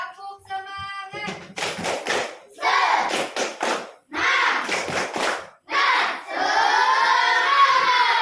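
Children in a classroom shout and clap a quick rhythmic chant in bursts, loud and close, ending in a sustained group shout.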